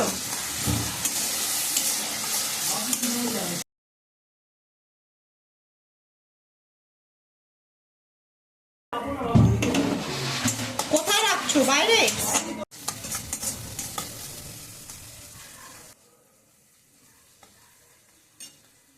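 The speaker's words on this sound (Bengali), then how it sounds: "মশলাটা কষানো হয়ে গেছে" A spice mixture with tomato is stir-fried in a pan: sizzling broken by scraping stirs, cut off by a long stretch of silence, then resuming before fading low at the end.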